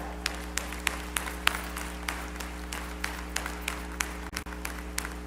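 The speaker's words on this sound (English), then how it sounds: "Let us give them a big round of applause as well." Audience applause at a college commencement service, faint and distant, with scattered individual claps over a steady electrical hum.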